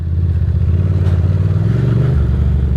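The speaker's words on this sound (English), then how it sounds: "We're hanging out on the old bike today." An older Ducati motorcycle cruises along a road, its engine a close, steady low rumble with a slight shift in pitch near the end.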